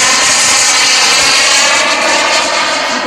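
Radio-controlled Sukhoi Su-27 model jet throttles up at an airfield, a loud, steady, full-bodied turbine roar with hissing high-end filling the whole moment close by.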